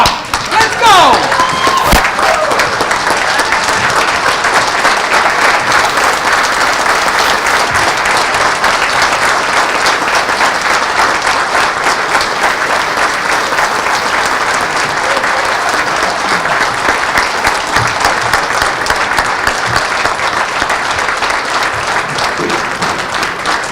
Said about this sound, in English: give a huge round of applause for all the winners